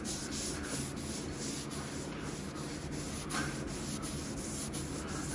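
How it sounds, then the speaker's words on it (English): A rag rubs duct tape residue off a car body panel in steady, continuous scrubbing, with back-and-forth strokes recurring in a regular rhythm, close and fairly loud. "just keep rubbing it. Change the blade, the panel of the rag"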